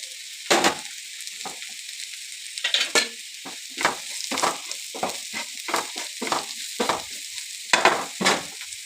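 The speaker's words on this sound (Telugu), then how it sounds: "బీరకాయ వేసుకోవాలి." Ridge gourd frying in a pan for a milk curry, with about a dozen sharp scraping stir strokes close by over a soft, steady sizzle.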